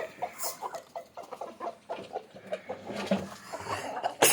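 Native country chickens clucking as their coop is opened in the morning, a busy chorus of close, overlapping clucks and short calls in quick irregular rhythm.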